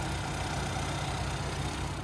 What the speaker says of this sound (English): there's that 2-liter turbocharged 4-cylinder engine